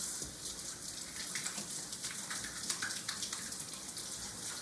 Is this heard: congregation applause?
no